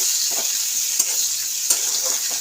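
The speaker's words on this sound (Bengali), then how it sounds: "তো এর সাথে এবার পেঁয়াজ কলিটা দিয়ে দেবো।" Onion stalks frying in hot oil with black cumin give a steady, close hiss, broken by a few soft stirring scrapes and small pops, with no voices.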